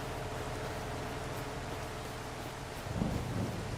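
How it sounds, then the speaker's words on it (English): Steady hiss of rain in the Farming Simulator 25 farm game, a dense even wash of noise with a brief low rumble swelling near the end. "Okay, I can't do it while it's raining though."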